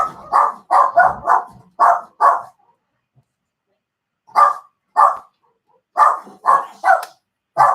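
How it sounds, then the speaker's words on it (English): A dog barks in sharp, loud bursts close by, several quick barks in a row, then a pause of a couple of seconds, then more clustered barks in an indoor room. "Apologies for the dog."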